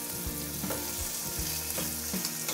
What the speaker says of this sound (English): You can smell it sizzling out already.